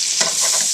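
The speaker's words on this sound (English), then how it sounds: "Get up all those scrapings" Metal tongs scrape across the bottom of a pan as butter melts and cooks for chicken with dumplings, a steady close scraping and stirring over a soft continuous sizzle.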